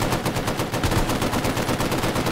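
Sustained automatic machine gun fire in Hell Let Loose, a rapid, loud, continuous stream of closely spaced shots with no pause.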